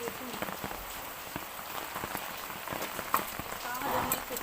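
Rain falling during a storm, a steady patter of drops striking a surface at moderate distance, fairly quiet, with occasional sharper drips and no clear speech.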